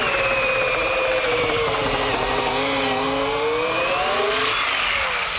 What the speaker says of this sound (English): So we'll use a larger drill.